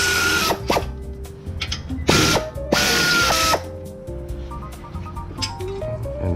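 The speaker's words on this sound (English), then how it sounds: "So now we're gonna remove the 2 bolts for the bracket." Wrench, likely a ratchet, working on the brake caliper bracket bolts of a car during a brake job, giving several loud clicking, whirring mechanical bursts close up, with metallic ringing tones between them.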